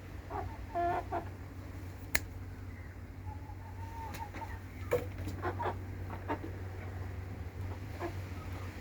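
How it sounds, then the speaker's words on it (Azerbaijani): Sick chickens showing breathing trouble, likely from a cold, give soft clucks and scattered faint clicks over a low steady background hum, fairly quiet and close. "İndi diqqətlə indi baxsanız, burada bir toyuq var."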